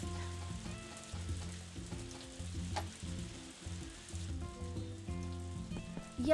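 Rain patters in the farming video game Story of Seasons: A Wonderful Life, a constant soft sizzling hiss layered under gentle looping background music.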